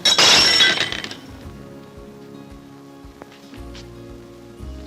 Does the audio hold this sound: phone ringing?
no